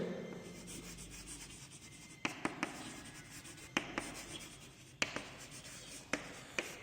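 Handwriting with a pen in a computer applications lesson, faint scratchy strokes and soft rubbing with several light taps as the pen lifts and touches down, quiet and close.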